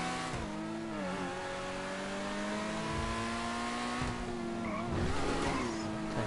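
Autarch supercar in GTA 5, its engine holding a loud, continuous high rev while the tyres squeal and skid through several shifts in pitch, with no talk over it.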